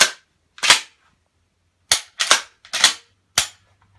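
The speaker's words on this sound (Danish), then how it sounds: "så hvis der er lidt close combat, så er der en dejlig pumpgun her." A pump shotgun firing in a video game: five sharp, loud blasts with quick decays, spaced irregularly, the later shots closer together, with silence between and no speech.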